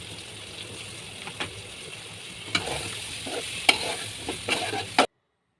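Pointed gourd and tomato cook in spice masala in a pan, a soft sizzle with stirring scrapes and clinks that grow busier halfway through before cutting off.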